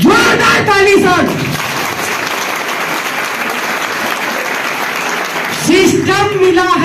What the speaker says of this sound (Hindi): जोरदार ताली सर।